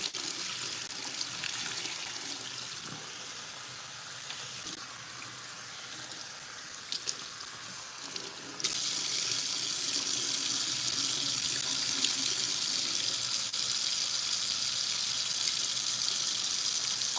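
Tap water runs steadily while hair is rinsed under it, a continuous near hiss that gets brighter and louder partway through, with no voices.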